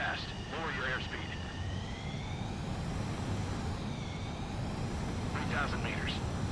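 Fighter jet landing in Ace Combat 7, a constant loud engine roar and rumble with rising and falling whine tones, under radio-style voices giving landing instructions.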